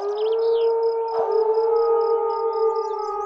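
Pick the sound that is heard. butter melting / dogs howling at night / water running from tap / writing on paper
dogs howling at night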